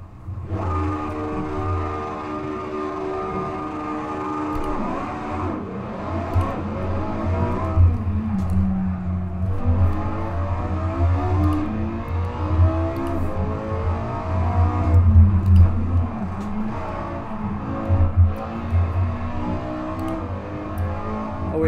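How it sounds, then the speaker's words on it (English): Porsche 918 Spyder, McLaren P1 and LaFerrari hypercars racing in Assetto Corsa, engines droning loudly and continuously with rising and falling revs, gear shifts and overlapping engine tones throughout. "I'm gonna come for a drive in a Porsche 918 Spyder against a P1 McLaren and a LaFerrari."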